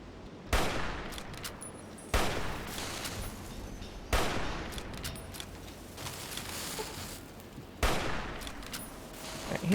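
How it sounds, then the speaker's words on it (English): Enemy gunfire in Fallout: New Vegas Lonesome Road: four sharp gunshots at spaced intervals, each followed by rattling, echoing tails of battle noise, fairly distant and quiet overall. "I think he's trying to shoot us"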